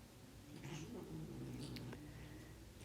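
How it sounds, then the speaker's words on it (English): Two house cats growl at each other indoors, a low, steady, moderately faint rumbling that continues without a break for about three seconds, with no talking. "Apologize if you hear my cats starting to growl at each other"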